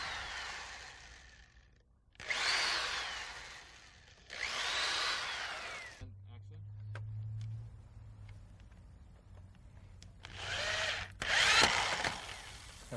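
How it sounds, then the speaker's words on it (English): A power drill with a 1/8-inch bit pre-drills screw holes in wood, whirring in several bursts of a few seconds each, close up, with a low hum and light clatter between runs. "Okay, I'll drill that. We need to pre-drill these holes."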